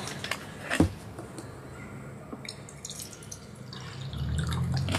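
Reverse-osmosis water pours and drips, with a sharp splash near the start, scattered faint drips, and a soft, steady trickle that swells toward the end, close by with no talking.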